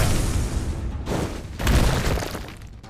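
Loud crashing impact with shattering, breaking crunches in the visual novel Tsukihime Remake, a heavy body striking the ground with bones snapping, two dense bursts in quick succession, close and alone with no voices.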